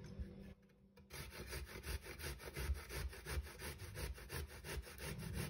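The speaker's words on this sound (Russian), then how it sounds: "Кабачки надо натереть на крупной терке." Zucchini rubbed on a coarse grater gives a steady run of rasping strokes after a short pause near the start, close and fairly loud, with no talking.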